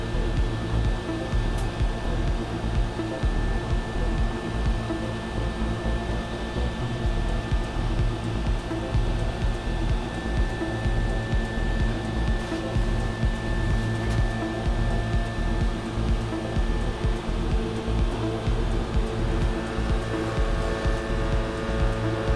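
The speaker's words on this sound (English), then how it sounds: "What it's printing right now is the raft for this particular print." An AXIOM Dual Direct Drive 3D printer lays down a raft, giving a steady, loud mechanical hum and whir with constant fan noise. The sound runs unbroken throughout and no one speaks.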